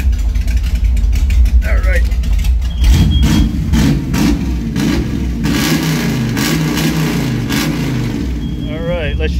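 An old car's engine in a closed garage runs loud and close, idling with a rough steady rumble and then revving up in a few rising surges, while someone speaks briefly over it.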